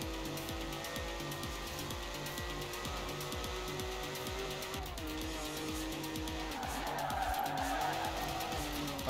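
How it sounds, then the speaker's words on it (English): A car in Forza Horizon 4 slides its back end round a corner, with a droning engine hum and a long tire squeal that rises and swells toward the end. "I like to slap the back end round on corners, a bit like this."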